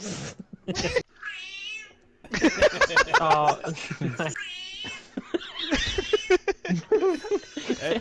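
Voices imitate a cat's meow several times in drawn-out, wavering calls during an online Warzone game session, broken up by laughter and short remarks.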